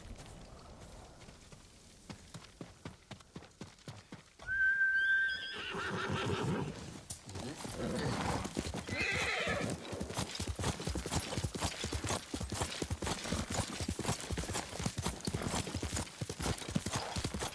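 In a video game, a horse whinnies once loudly, then hooves clip-clop in a quick galloping rhythm that continues steadily, close and clear.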